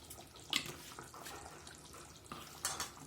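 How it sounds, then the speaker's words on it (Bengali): Rose water is splashed into a pan of nearly finished chicken roast, a short liquid pour heard as two brief bright splashes against a quiet kitchen background. "আমি এখন নামানোর আগে আমি একটু গোলাপ জল দিয়ে দিলাম"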